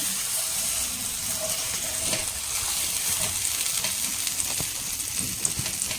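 Paneer and vegetables fry in melted butter on a nonstick pan, giving a steady, soft sizzle with light crackles and scrapes throughout, no voice over it.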